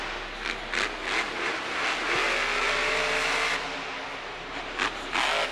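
Monster truck engine roaring through a sky wheelie in a Monster Jam stadium event in St. Louis, loud and sustained with revving surges over constant crowd and arena noise.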